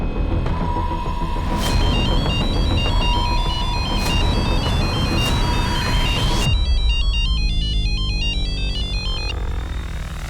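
A mobile phone ringtone plays loudly and continuously, a repeating electronic melody that switches to a brighter, faster warbling pattern partway through, with no talk over it.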